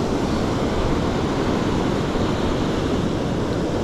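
Ocean waves rolling onto a beach as the tide comes in, a dense continuous wash of surf with some wind, loud and unbroken, no voices.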